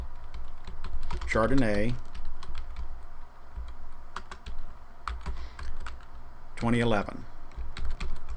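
Computer keyboard typing while entering a wine in CellarInfo wine cellar software: light, scattered key clicks run steadily underneath, with a voice speaking briefly twice over them.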